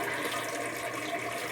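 Water gurgling steadily through the uncapped overflow of a homemade aquarium sump, a close, continuous watery rush with no pauses and no voices.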